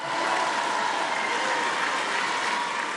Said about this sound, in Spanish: Un aplauso a Andrés Manuel López Obrador.